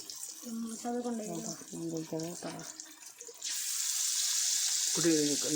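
Food roasting in a pan, a steady broadband sizzle swelling loud for a couple of seconds between stretches of a voice talking over the cooking.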